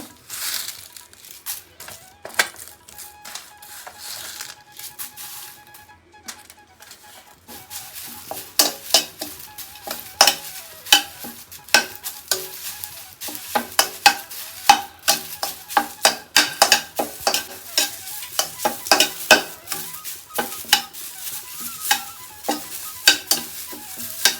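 Curry leaves stirred and dry-roasted in a pan while spice powders are made for sambar give a soft sizzle under a steady run of close scraping and clinking strokes from the spoon. The strokes grow busier toward the end, with no talking.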